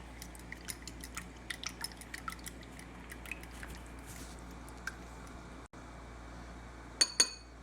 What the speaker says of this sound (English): Then we're going to take our fork and we're going to start whisking it